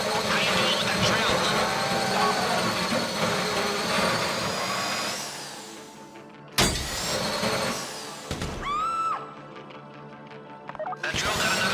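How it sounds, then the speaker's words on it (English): A drill boring into a box during a GTA V bank heist, a dense grinding whine over heavy background noise that cuts out abruptly, with sharp mechanical bursts and squeals afterward. "How you doing with that drill?"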